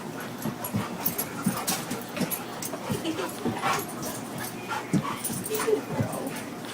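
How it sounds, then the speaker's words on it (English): Two dogs play-fight close by with a run of growls, grunts, yips and scuffling, uneven and steady throughout, over a noisy background. "Let's watch some dogs fight."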